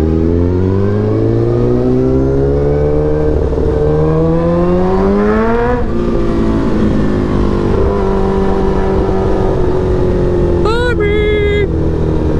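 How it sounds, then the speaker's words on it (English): Motorcycle riding through slow road traffic, engine drone rising and falling as it rolls along, with a brief higher whine or horn-like tone near the end. "And just slow traffic at that."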